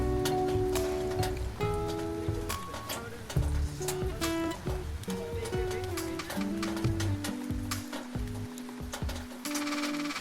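Steady rain falls at a riverside spot in Cochin, a constant dense patter under music and chatter.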